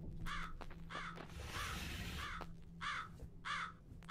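Several crows caw in a horror video game: rough, repeated calls in separate bursts, some overlapping in a busy middle stretch, with a low steady hum underneath.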